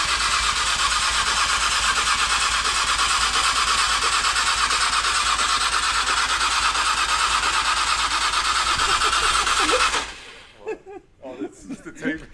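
A Nissan R34 GTR engine fires up for its first start and holds a loud, steady, rough idle close by for about ten seconds, then cuts off, leaving brief voices and clatter.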